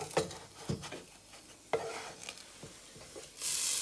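A melted-cheese snack is flipped in a pan, giving several soft scraping knocks and utensil taps at an uneven rhythm, with a faint sizzle swelling at the end.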